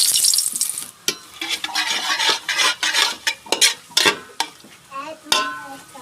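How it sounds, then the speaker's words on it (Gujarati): Bay leaf, cinnamon and whole spices hit hot oil in a pot for dal fry, giving a bright sizzle at first, then a steady crackle under repeated stirring and clinks of a metal spoon against the pan. No one speaks. "તેલ ગરમ થઈ ગયું છે. આમાં આપણે તમાલપત્ર, બાજિયા અને તજ લીધા છે"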